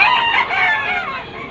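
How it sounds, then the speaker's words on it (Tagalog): A Talisay yellow-legged Picom bull stag at a Malabon pet market crows once, close and loud, in a short, raspy call lasting about a second and a half. "Talisay na yellow legged Picom bull stag"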